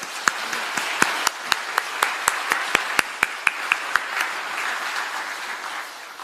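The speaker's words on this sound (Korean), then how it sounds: "박수를 한 번 올려드렸으면 좋겠습니다" A congregation at a special early-morning church prayer service applauds together, a moderately quiet wash of clapping with sharp louder individual claps standing out at a steady rhythm before tapering off.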